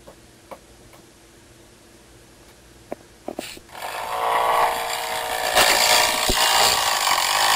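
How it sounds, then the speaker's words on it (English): A few faint ticks and knocks give way to a power drill whirring steadily into pressure-treated lumber, drilling anchor holes, growing louder and grinding on continuously. "they're going to be drilling in the anchors, drilling the holes for the anchors"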